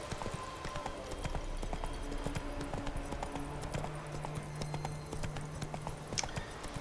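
Roach, the horse from The Witcher 3, gallops in a steady, rhythmic run of hoof clip-clops, fairly quiet and continuous, with faint game ambience underneath.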